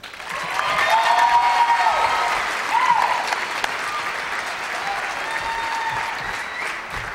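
Sustained audience applause at a 2008 commencement ceremony welcoming a speaker to the podium, steady clapping from a large crowd throughout with a few faint cheers.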